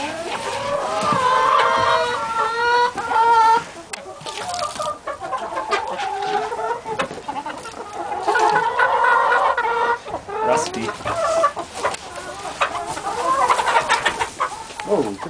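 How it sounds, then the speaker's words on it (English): A crowd of chickens clucks and squawks nearby in a farm coop where eggs are collected, with overlapping, busy calls rising and falling in loudness throughout and no clear talking. "Holy chickens everywhere."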